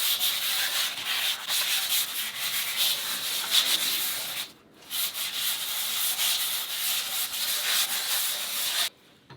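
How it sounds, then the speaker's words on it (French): The top of a piece of furniture is rough-sanded with a steady, close, scratchy rasping that pauses briefly midway and then resumes before stopping, with no talking. "la première étape, je vais d'abord poncer grossièrement le dessus,"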